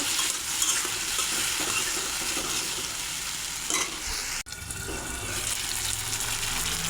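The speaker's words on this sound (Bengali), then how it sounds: "এখন মশলাটা ভালো করে কষিয়ে নেব" Spice paste with chopped tomato and salt being sautéed in a pan, dense bubbling sizzle with steady stirring and scraping, a brief thud midway, heard up close without speech.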